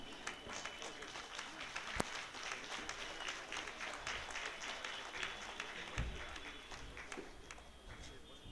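Audience at an IVS silver jubilee celebration applauding a swami president, a faint, steady patter of many hands that sounds distant and even throughout, with a couple of sharper knocks.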